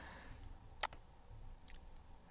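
A computer mouse clicks while working in Adobe Photoshop 7.0, one sharp faint click followed by a second softer click, quiet and close with low background hum.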